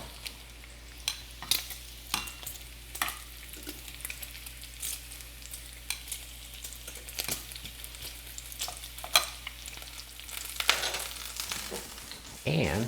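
Bacon frying in a pan while a breakfast with scrambled eggs is made, a soft continuous sizzle under frequent sharp clicks and clinks of utensils and handling, no talking.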